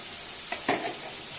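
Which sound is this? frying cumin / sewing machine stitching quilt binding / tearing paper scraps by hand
frying cumin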